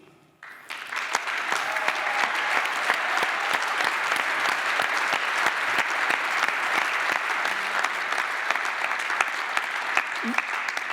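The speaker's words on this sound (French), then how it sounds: "Vous avez raison d'applaudir" Applause from delegates at a union congress, starting abruptly after a brief quiet moment and then holding as sustained, dense clapping from a large hall with sharp individual claps standing out.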